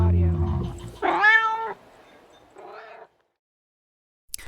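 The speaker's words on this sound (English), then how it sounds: "Cat Audio." A domestic cat lets out a clear, close meow with a rising-then-falling pitch, followed by a quieter second call and then silence, with a low voice-like sound just before.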